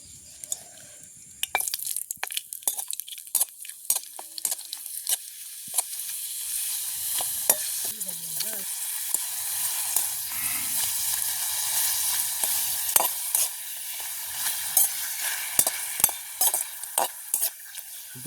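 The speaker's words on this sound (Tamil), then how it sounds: "இப்படியே அப்பளத்தையும் பொரிச்சு எடுப்போம்." Papadum (appalam) frying in hot oil during home village cooking: a continuous bright sizzle with frequent crackles and scattered clinks of a utensil stirring, fairly close and loud, with no talking.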